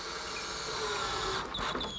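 A power driver runs a long 3 3/4-inch screw into a pre-drilled hole in a wooden table top, giving a brief close whirring grind that ends with a slight change in pitch.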